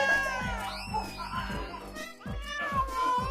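A cat meows repeatedly in rising, drawn-out cries, close and fairly loud, over a background of rhythmic music.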